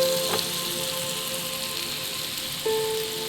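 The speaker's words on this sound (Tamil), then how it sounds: "ஃபிஷ்ஷு வறுக்கிறோங்க." Fish sizzles steadily in hot oil for a fish fry, a dense, even crackle and hiss that holds throughout, with a couple of brief higher tones cutting through.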